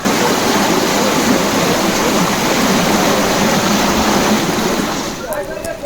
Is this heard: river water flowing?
yes